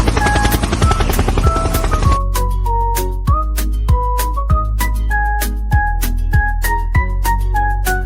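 A helicopter's rotor chops rapidly for about two seconds, then gives way to a bouncy tune with regular beats.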